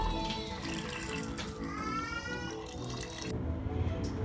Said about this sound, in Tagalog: lalagyan po natin siya ng tubig